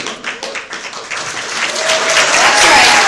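Applause from a convention audience during a Q&A panel at SitC 2012, a broad dense wash of clapping that swells and grows louder toward the end, with faint cheers mixed in.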